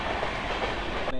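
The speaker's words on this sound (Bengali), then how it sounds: "চলো ট্রেন ঢুকুক আগে" A passenger train rolls in on the Howrah–Tarakeswar line, its steady rumble and wheel noise filling the platform for about a second before abruptly cutting off.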